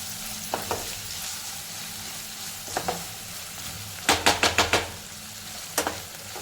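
Onion frying with ginger-garlic paste for a prawn masala, a low steady sizzle punctuated by sharp spatula scrapes and knocks against the pan, one quick rapid cluster in the middle.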